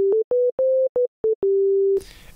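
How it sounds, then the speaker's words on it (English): A bass sine wave from the Sylenth1 software synthesizer plays as a clean, pure low tone. It sounds in a run of short staccato notes, then one long sustained note that cuts off into faint noise. "we have our bass sine wave right here"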